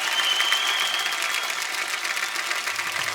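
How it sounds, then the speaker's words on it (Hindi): A studio audience at a comedy talk show applauding for cricketer Suryakumar Yadav, a dense, continuous wash of clapping at steady loudness. "सूर्य के लिए जोरदार तालियां"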